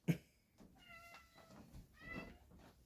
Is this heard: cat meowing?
yes